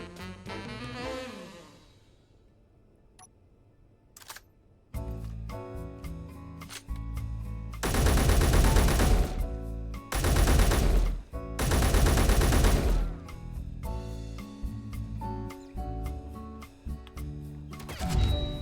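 Turret gunfire in Space Engineers rattles in several dense, loud bursts separated by short pauses, after a quieter opening.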